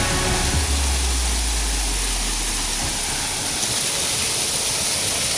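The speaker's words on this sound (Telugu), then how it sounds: "ఇక్కడ నుంచి కూడా వాటర్ పడుతుంది" A steady, loud rush of falling water from the Arpana waterfall near Rayagada fills the whole clip, a constant broadband roar with a low rumble early on.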